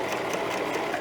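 Domestic sewing machine running steadily through knit fabric for a dress, a dense continuous mechanical whir at close range with no pauses and no talking.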